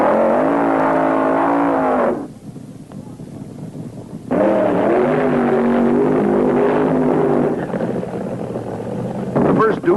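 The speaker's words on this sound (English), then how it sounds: "Suddenly, it was time for the funny cars, and some wild ones burned out of the staging area." Funny car drag racers burn out at a 1973 drag strip with a loud, roaring engine drone. The engines rise and fall, drop away briefly, then surge back under wind noise and some background talk.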